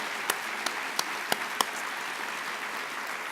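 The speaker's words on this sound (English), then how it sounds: "can we have one more round of applause for the Chief Justice?" A luncheon audience gives a sustained, moderate round of applause for the Chief Justice, with even clapping throughout and a few sharper individual claps standing out early on.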